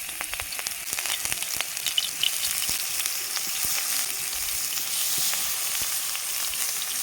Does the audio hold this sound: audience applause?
no